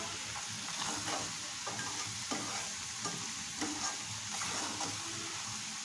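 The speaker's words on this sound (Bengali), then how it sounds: "কিছুক্ষণ রান্না করে যখন ডিমটা একটু শক্ত হয়ে গিয়েছে তখন আমি নেড়ে চেড়ে দিচ্ছি।" Eggplant and egg fry in a pan for begun bhaji with a constant loud sizzle, while a utensil stirs through them in soft, repeated scrapes close by.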